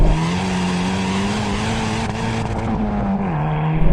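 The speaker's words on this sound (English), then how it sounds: "let's see what this Hyundai i30 is like to drive" A Hyundai i30 N hot hatch accelerates hard, its engine note rising and holding steady with a brief dip partway through, loud and close from inside the car.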